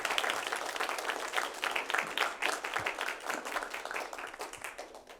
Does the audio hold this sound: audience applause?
yes